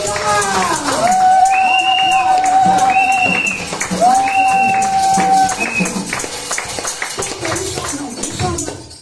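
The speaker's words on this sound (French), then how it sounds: "On acclame Jésus." Church congregation acclaiming Jesus with loud cheering, clapping and ululating voices, sustained and close, with long sung or shouted vocal tones rising over the crowd.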